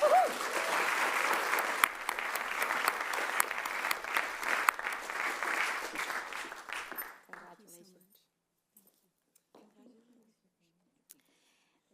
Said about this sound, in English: please join me in giving a round of applause to our first Opportunity Award honoree for this evening, Mary Beth William from NYCETC.